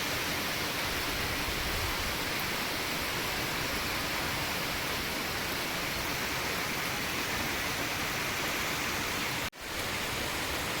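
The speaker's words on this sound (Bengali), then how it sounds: "ঝুমঝুম করে বৃষ্টি নেমেছে।" Heavy monsoon rain pours down steadily, a dense, even hiss close by that holds throughout with no talk.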